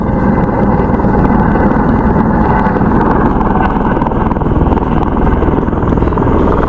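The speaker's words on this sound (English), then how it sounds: "But as you can hear the helicopters." Loud, continuous helicopter rotor thrum and engine roar, steady and close throughout, with a dense low rumble.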